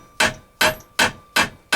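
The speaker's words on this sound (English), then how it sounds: "I think this is probably an 8-ounce hammer" Five sharp, evenly spaced strikes of a small 8-ounce hammer on metal during grinder maintenance, each a crisp close impact with a short ringing tail.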